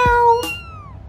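A single cat meow rises and then falls in pitch, followed by a sharp short burst, close and clear in a children's picture-book story, no speech over it.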